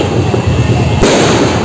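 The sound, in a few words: firecrackers exploding in the sky at New Year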